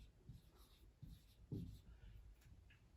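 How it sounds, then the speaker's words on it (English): A pen scratches across paper in a few short strokes, faint and close, with quiet sound between the strokes. "here we're going to write down high sugar"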